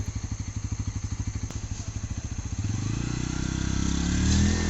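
A new motorbike on its first ride idles with a rapid, even thumping pulse, then its engine swells into a smoother, louder rising drone as it pulls away, close by and without talk.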